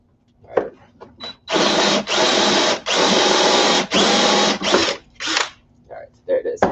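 A drill boring a hole with a Forstner bit while modding an Arcade1Up cabinet, running in several sustained loud bursts with short pauses, bracketed by quieter clicks and handling noises.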